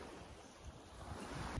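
Waves wash steadily onto a beach at Cabo de Gata beside a campsite, a soft continuous surf roar mixed with wind rumble on the microphone, with no voices.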